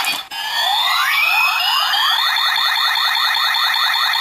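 Kabuto Zecter toy from Kamen Rider Kabuto giving its electronic standby sound effect: a short click, then a rising synthesized sweep that settles into a loud, looping high-pitched warbling tone, steady and close.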